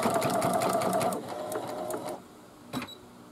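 A sewing machine stitches a hooded towel, its fast steady whirring running loud and close for about two seconds before stopping, with a brief faint click afterward.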